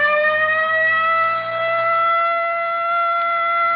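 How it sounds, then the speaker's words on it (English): A police car siren in a radio drama wails as a steady, loud, tonal blare, holding nearly level pitch throughout with no voices over it. "Better hit the siren."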